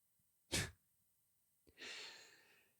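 A single sharp sneeze bursts out, followed a moment later by a small click and a long breathy exhale that fades away.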